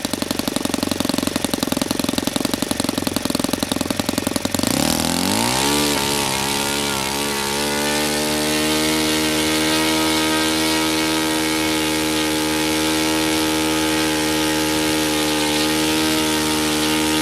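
Saito FA-72a four-stroke model engine being started, revving up then settling into a steady, loud, continuous drone with strong harmonic tone, running alone without talk for the rest of the clip.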